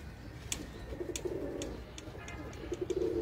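Breeder and highflyer pigeons coo softly in low, rolling murmurs in two stretches, with faint chirps and rustling around them.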